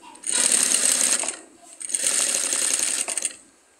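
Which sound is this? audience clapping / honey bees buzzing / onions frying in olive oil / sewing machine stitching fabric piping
sewing machine stitching fabric piping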